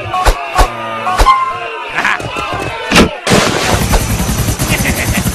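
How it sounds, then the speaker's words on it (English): Video game gunfire in Grand Theft Auto IV: several loud, sharp shots with short gaps between them, followed by a dense, sustained roar of rapid firing and noise. "Quick, shoot the noob!"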